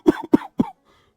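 An old man on a cot coughs three times in a quick row, with short rough bursts close to the mic that then fade into near silence.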